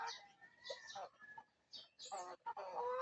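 Several short clucks from a black Kabir hen nearby, irregular bursts with brief pauses, over a quiet outdoor background.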